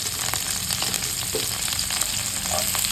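Onion frying in hot cold-pressed oil in a pan, a dense continuous sizzle with a few soft stirring clinks, close and steady with no talking.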